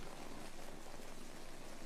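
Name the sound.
heavy rain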